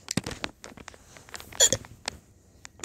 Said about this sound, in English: I have the hiccups right now